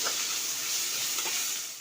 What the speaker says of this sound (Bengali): মাছগুলোকে লাল লাল করে একটু ভেজে নিতে হবে।